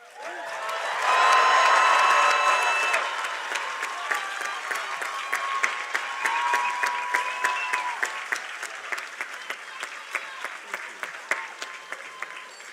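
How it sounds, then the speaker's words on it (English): Cheers and loud applause rise from a commencement audience, peak early, then settle into thinning clapping that trails off into scattered, distinct claps. "So I'd like you to please cheer for the people standing as loudly as they cheer for you."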